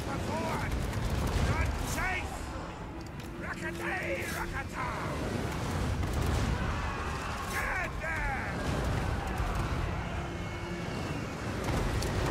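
Continuous battle din from a Warhammer-style strategy game, with artillery bombardment landing among troops as booming, rumbling blasts and scattered gunfire under a steady wash of combat noise, with a voice talking over it.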